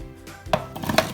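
Onions are chopped on a board: a few quick, close knife thuds in a short burst, with no talking.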